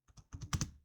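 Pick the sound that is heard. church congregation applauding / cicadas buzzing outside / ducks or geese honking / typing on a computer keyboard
typing on a computer keyboard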